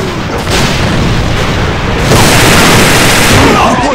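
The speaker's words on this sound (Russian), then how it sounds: "Бросаю гранат!" A grenade explodes in the shooter game AVA, set in a township map: a loud, close, sustained boom and rumble with a second surge of blast noise about midway, mixed with crackling debris and battle noise.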